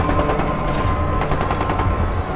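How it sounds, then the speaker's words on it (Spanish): Gunshots crackling in rapid, repeated bursts amid a dense, loud wash of noise during the 1968 massacre in Mexico. "Y entonces empiezan los primeros disparos"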